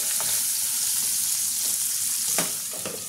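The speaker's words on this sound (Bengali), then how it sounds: "দেখো পেঁয়াজটা আমার লাল লাল ভাজা হয়ে গেছে" Loud, steady sizzling of onions frying in a pan, close up, with a few scraping stirs breaking through the hiss.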